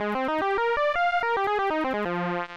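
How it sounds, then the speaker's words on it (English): A melody from a Woovebox synthesizer with light distortion and no reverb or delay: a quick run of bright, buzzy stepped notes rising and falling, loud and dry, ending on a held low note. "I always like to add like 1 level of distortion."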